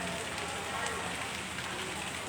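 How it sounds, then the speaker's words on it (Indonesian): Steady rain falls at a bus terminal in Makassar, a constant, even wash of patter with no breaks, moderately loud and close throughout, with no voices over it. "kondisi di sini Tribuners masih hujan"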